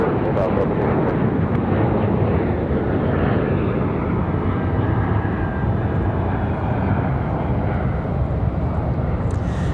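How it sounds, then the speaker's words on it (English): An American Airlines A321 airliner taking off at Raleigh Durham airport, a loud, steady jet engine roar that fills the whole stretch, with a voice talking over it. "Got an American A321 headed down the hill."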